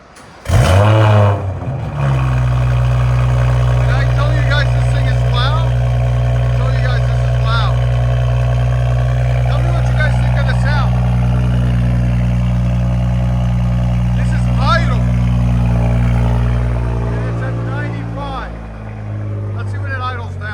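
A 2019 BMW 540i with a 3.0L turbo inline-six, downpipes and straight-pipe exhaust starts up and revs loudly nearby, settling into a deep droning rumble with rising revs, while people talk over it.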